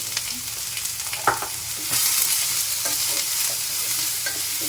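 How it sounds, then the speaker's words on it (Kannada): Onions fry in a pan while green bendi fry is being made. A continuous close sizzle runs throughout, broken by a few scraping stirs, and it grows louder partway through. No voices. "ಅದು ಚೆನ್ನಾಗಿ ಫ್ರೈ ಆಗಲಿ ಈರುಳ್ಳಿ."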